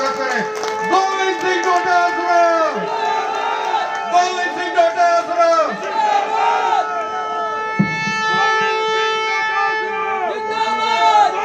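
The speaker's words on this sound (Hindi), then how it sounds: "जोरदार तालियों से उनका स्वागत करें" Large crowd at a Congress party protest rally in Rajasthan, cheering and shouting continuously with chant-like voices, loud and dense throughout, with a brief dip near the end before the roar swells again.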